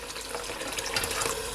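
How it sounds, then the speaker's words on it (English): Water poured from a kettle into a cooking bowl used for seasoning chicken, a steady close splashing fill that brightens and builds over a second and a half, with no talk. "I add water from my kettle,"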